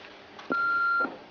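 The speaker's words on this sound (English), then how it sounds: "There's a message on your aunt's phone." A single steady electronic beep from a phone answering machine, holding for about half a second before a recorded message, clear and alone in a quiet room.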